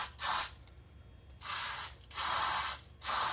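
Four bursts of aerosol spray into a laser beam, each a broad hiss lasting about half a second, separated by short pauses, close and fairly loud.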